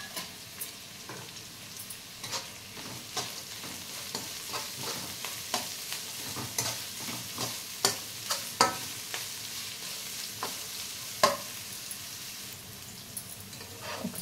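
Thinly cut long carrot strips stir-fry in a hot pan for hakka noodles, a steady sizzle under repeated scraping and stirring taps of a spatula, close and continuous with no talking.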